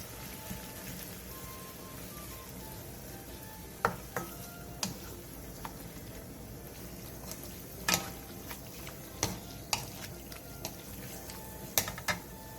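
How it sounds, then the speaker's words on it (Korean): Marinated beef stir-fries in an oiled pan over high heat with a steady low sizzle, while sharp scraping and clacking of a utensil against the pan break through every second or two, close and moderately quiet. "팬에 기름을 두른 뒤 재워놓은 소고기를 넣고 센 불에서 볶아주세요"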